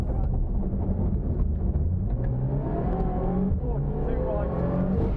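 A rally car engine revs and drones steadily during a rally, its rough, blowing exhaust rasping throughout after a rough stage, with a voice talking over it.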